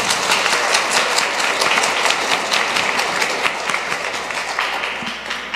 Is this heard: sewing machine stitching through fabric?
no